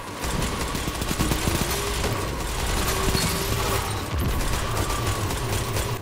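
A fast-firing weapon in a shooter video game rattles off loud, continuous bursts of rapid shots, dense and close, with brief mechanical clicks and gaps between volleys.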